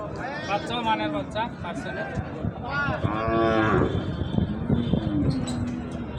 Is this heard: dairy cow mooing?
yes